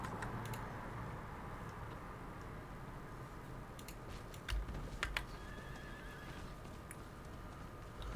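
A horse in the video game Diablo IV gives a whinny over a steady background bed, with a few sharp hoof clops close by near the middle.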